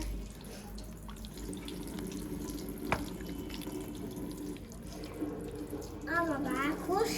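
Hands being washed under a running tap at a village market stall, a steady close wash of water with faint voices in the background.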